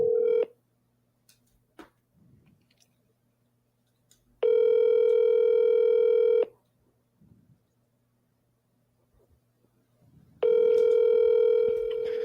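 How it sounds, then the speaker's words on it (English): A telephone call ringing out and being redialed: a brief tone at the start, then two long electronic ringback tones separated by quiet gaps with faint button presses and rustling. "Let's call him right back. The double dial."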